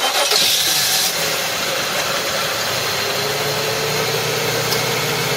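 A Mazda MPV engine is cranked and catches, followed by a steady mid-pitched idle that carries on close by. No voices are heard.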